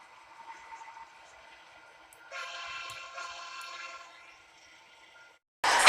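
An animated coal train passes, its diesel rumble and faint rolling sound building into a sustained horn-like tone that lasts about two seconds, then fades before a loud burst at the end.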